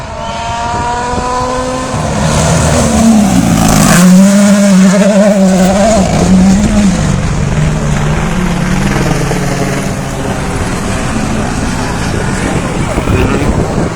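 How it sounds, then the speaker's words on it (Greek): A rally car launches from the start of a dirt special stage in the Geraneia mountains at the Acropolis Rally, its engine revving hard with rising and falling pitch, loud and close, while a helicopter drones overhead throughout. "ξεκινάει το δεύτερο αυτοκίνητο"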